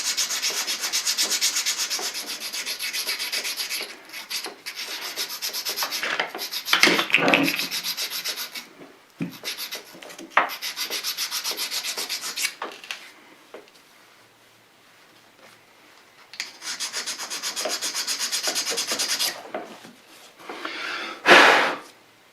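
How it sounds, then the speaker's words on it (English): Small stone rubbed back and forth over a Bridgeport rotary table part to knock off burrs, gritty scraping strokes in bursts separated by short pauses, close and clear with no talking. "take a little stone here and just clean this off. I'm sure it got some burrs on it."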